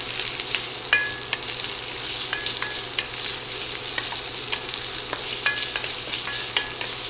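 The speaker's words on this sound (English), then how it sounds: "Now that's the sound you want to hear in the kitchen. Nice sizzle going on in there." Onions sizzling steadily in a hot pan, a bright crackling hiss with occasional clinks and scrapes of stirring, no talking.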